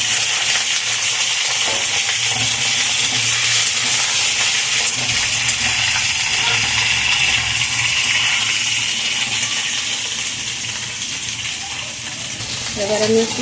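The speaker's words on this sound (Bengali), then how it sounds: "এবার আমি দিয়ে দেবো আলুগুলো একটু ভাজা ভাজা করে নেবো।" Potatoes and chopped banana stem fry loudly in a pan, a dense continuous sizzle with bursts of stirring and scraping throughout, close and prominent.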